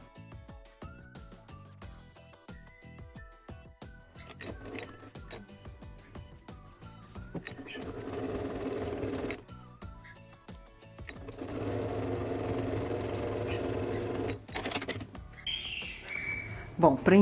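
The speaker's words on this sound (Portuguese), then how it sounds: "eu vou prender esta manta passando uma costura de segurança aqui bem na beiradinha" A sewing machine runs a safety seam along the edge of a fabric batting layer, starting with short stuttering stitch bursts, then two longer steady runs close up, with small handling clicks between them.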